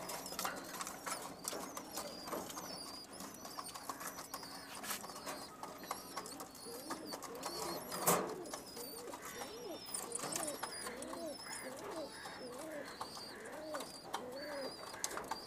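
Pigeons coo in soft, repeated rounded calls, several birds overlapping close by, with a brief louder knock partway through.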